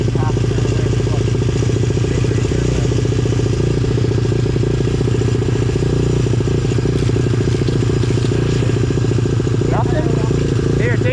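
The engine of a pit bike with a good carburetor runs loud and close at a steady idle with a rough clattering pulse, while people talk over it.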